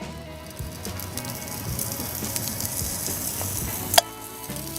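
Fatty meat frying over a campfire on a tripod grill, crackling and sizzling continuously at close range with dense popping spatters, ending in a sharp clack and a brief quieter moment.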